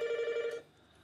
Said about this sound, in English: that was the phone ringing.